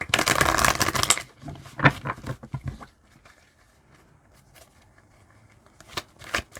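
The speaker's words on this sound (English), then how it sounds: "One more shuffle." Tarot cards riffle and shuffle in a dense, crisp burst, then a few more softer shuffles and taps, ending with another quick riffle; close up, no voices.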